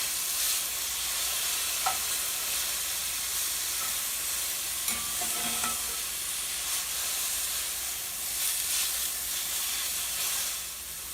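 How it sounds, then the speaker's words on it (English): Spiralized zucchini noodles from two whole zucchinis are seasoned with salt and pepper and stirred in a frying pan, giving a steady sizzling hiss with occasional scrapes and clinks as they are moved around. "I'm going to move them around in the pan to evenly distribute the seasoning on"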